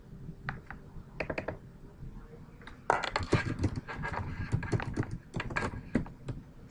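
Irregular clusters of keystrokes on a computer keyboard, fairly quiet and close, with short pauses between bursts and a busier stretch of typing in the second half.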